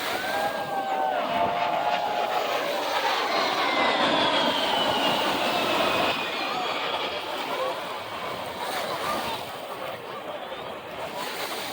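A-10 attack aircraft roars past with a rising and falling whine, loud and sustained, sweeping overhead over a noisy rushing background.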